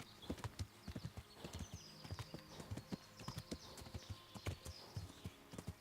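Horse hooves clip-clop at a steady trot in Kingdom Come: Deliverance, a rhythmic run of distinct hoof strikes on the ground, fairly faint with little else around.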